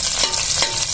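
Garlic fries in hot cooking oil for a Filipino sopas, a short burst of loud, close, steady sizzling with no voices.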